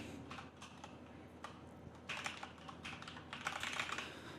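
Typing on a computer keyboard while coding a React app at a desk, with quick irregular clusters of key clicks that grow louder and denser toward the end, no talk.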